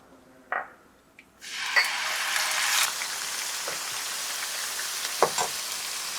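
Fenugreek, cumin and mustard seeds hit hot oil, a sudden loud sizzle bursting in after a few small clinks, then settling into a steady spitting fry with scattered pops.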